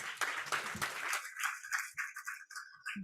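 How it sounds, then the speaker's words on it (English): Clapping from an audience at a partnership celebration event in Mumbai, a quick burst of claps that thins out into scattered, fading hand claps. "Please, once again, a big round of applause"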